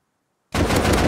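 Pistol gunfire in the video game Rust bursts in abruptly after half a second of silence, loud and continuous with rapid shots running together to the end.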